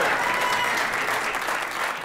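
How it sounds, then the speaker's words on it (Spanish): Dense, steady applause from a stand-up comedy audience at Comedy Central, a loud wash of many hands clapping at once that holds evenly for about two seconds with no voice over it. "Un aplauso para ustedes"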